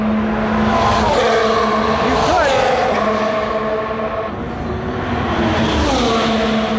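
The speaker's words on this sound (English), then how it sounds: "seeing these cars, they're fast, very fast" Race cars roar past continuously on the Las Vegas Grand Prix track, their engine pitch rising and falling as they speed by, loud and close, with faint voices in the background.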